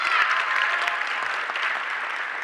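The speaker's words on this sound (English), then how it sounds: "Give Dr. Ryan Ross another round of applause." A crowd at the 2016 Mayor's Youth Awards applauds Dr. Ryan Ross, a dense, even wash of clapping that holds steady for the whole stretch with no voices on top.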